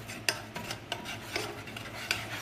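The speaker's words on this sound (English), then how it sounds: "I'm just gonna put half of the butter in here, and then we're gonna just stir it." A spoon stirs butter into a sauce in a pan, making faint, regular scraping and clinking strokes about every half second, with no voices.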